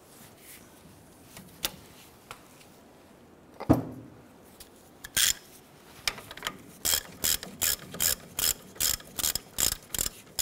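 A ratchet working loose a caliper bracket bolt on a 1993-1997 Ford Ranger during a front upper ball joint replacement, a steady series of close, loud clicking pulls after a few scattered metallic knocks.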